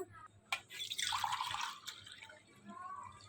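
Water is poured into a pot of rice being prepared for biryani, a steady splashing and filling stream lasting a couple of seconds, close and fairly quiet, then tapering off.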